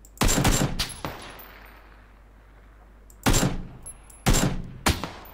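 Gunfight in PUBG: sharp bursts of rapid automatic gunfire, first a cluster of shots, then a pause of near silence, followed by two more loud close bursts and a final shot.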